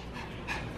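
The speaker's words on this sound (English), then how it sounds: "So right now the puppies are fighting over Shaggy's toy" Puppies pant rapidly while tussling over a toy, a close, breathy, continuous huffing under steady room noise.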